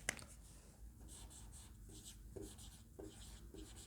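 Marker writing on a board during a chemistry lesson, heard as soft repeated scratchy squeaks in short strokes at moderate distance, fairly faint against a steady room background.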